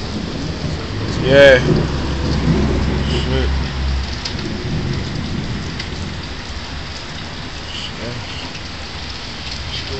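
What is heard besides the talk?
rain and thunder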